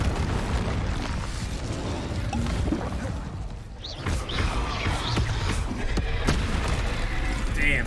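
Confringo blasting spells in Hogwarts Legacy burst with loud booms and crashing explosions during a chaotic duel, several impacts layered over continuous combat noise and faint voices.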